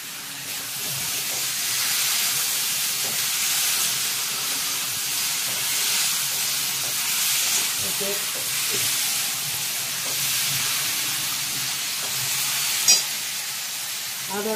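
Onion paste sizzles and fries in a pan with salt while cauliflower dhoka is cooked, a steady close hiss with faint stirring clicks and no talk.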